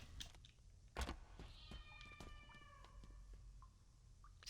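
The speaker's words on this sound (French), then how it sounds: "Ah oui, c'est vraiment un chat." A cat meows several times in a Halo Infinite match, short faint calls among soft thumps and clicks, with no talk.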